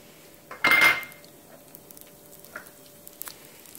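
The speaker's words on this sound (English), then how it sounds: "first I am going to add coconut oil, and in this I am going to add mustard seeds and urad dal" Mustard seeds and urad dal tipped into hot coconut oil in a pan, with a sharp metallic clatter and burst of sizzle, then a few scattered pops and small clinks as it settles.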